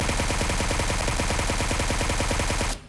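Continuous rapid automatic fire from a suppressed assault rifle in PUBG Mobile, a dense uninterrupted burst of loud, even shots lasting nearly three seconds before stopping abruptly.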